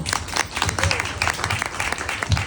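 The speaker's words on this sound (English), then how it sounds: "So please give me a round of applause for Michelle O'Neill" Audience clapping at a business networking event as someone speaker is welcomed to the stage, a loud burst of applause with a voice faintly mixed in.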